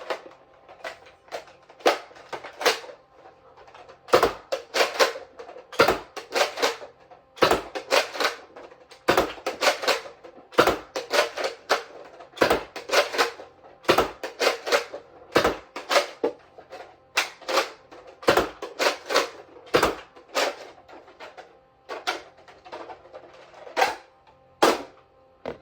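An old, worn Nerf Elite Retaliator blaster fires foam darts from a 10-round magazine. Each shot is a sharp, close snap with a rattling priming action, repeated in a long, irregular series of about a dozen shots, with no speech.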